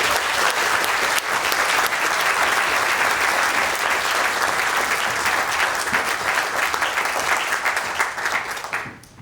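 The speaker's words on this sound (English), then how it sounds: "So please, a huge round of applause." A government-buildings audience applauds Green co-leader James Shaw as he is introduced: dense, sustained clapping from a sizeable crowd that holds steady for about eight seconds, then tapers off at the end.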